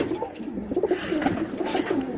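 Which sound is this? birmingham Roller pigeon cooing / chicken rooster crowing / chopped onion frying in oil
birmingham Roller pigeon cooing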